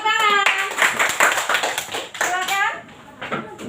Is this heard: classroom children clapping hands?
yes